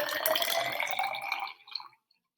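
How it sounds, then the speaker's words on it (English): Water pours into a beaker in a 5th grade classroom experiment, a close, bright splashing fill lasting under two seconds before quickly fading to silence. "Let's fill up the beaker."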